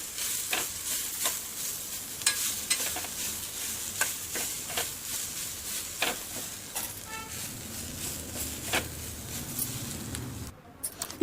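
Boiled potato is mashed by hand and mixed into a pan for masala dosa filling, giving soft squishing and a faint sizzle. Irregular taps and scrapes from the stirring recur close by, with no voices.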